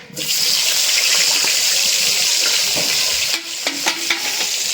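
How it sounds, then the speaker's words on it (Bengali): Eggplant slices frying in oil left from frying hilsa fish, a loud, continuous sizzle and hiss close by that eases slightly near the end as stirring clatters in. "ইলিশ মাছ ভাজা তেলে বেগুনগুলি ভাজা নেব"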